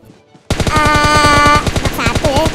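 A loud, rapid burst of automatic gunfire in a video game rattles continuously for about two seconds after a brief quiet start.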